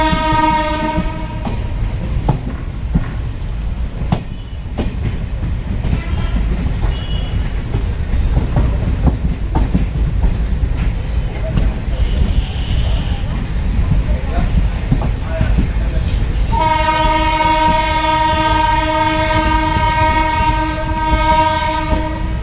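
A passenger train pulls away from platform 1 at Nagina, a loud rumble and rattling wheel clatter under steady talk, with a long blaring horn sounding near the end.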